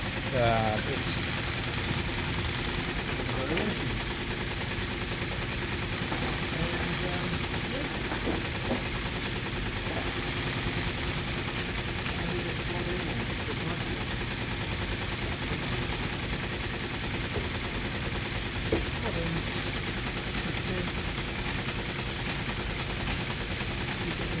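A printer connected over an RS232 serial link prints emoji images, giving a steady, dense mechanical chatter with a rapid rhythmic rattle that runs continuously and fairly loud the whole time.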